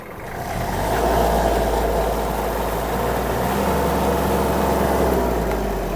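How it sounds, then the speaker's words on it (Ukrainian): A Kubota L1-215 Japanese mini tractor engine runs loud and steady with its power take-off engaged, a deep low rumble and a busy mechanical whir from driven machinery, no voices over it. "І включаємо вал відбору. Одразу четверта швидкість."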